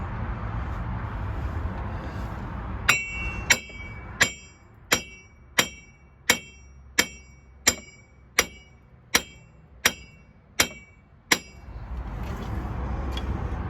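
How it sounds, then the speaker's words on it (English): Steel chisel struck by a hammer on a 2005 Cadillac Escalade AWD wheel bearing, about a dozen sharp metallic clanks at a steady one-per-second rhythm, close and loud over a low garage rumble. "So just hammering and hammering."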